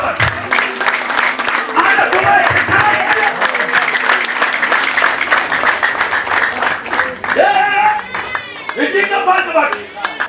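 Steady congregational clapping fills a church service, loud and continuous, while a preacher's voice and music carry over it and the applause thins toward the end.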